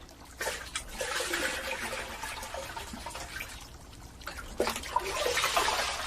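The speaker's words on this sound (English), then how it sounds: "Sangoro's wife, Chikano, washes the fish salted in spring." Water trickles and splashes steadily as fish salted in spring are washed by hand at a rural Japanese home, a soft continuous flow with a few louder gushes and no talking.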